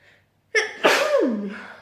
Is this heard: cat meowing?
no